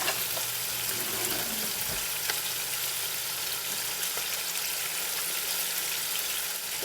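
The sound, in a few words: fries frying in a filled pan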